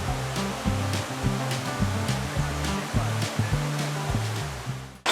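A large waterfall in the Polish Tatra mountains, in the Five Lakes Valley, gives a steady, dense roar of rushing water, with a faint repeating low thump running beneath it.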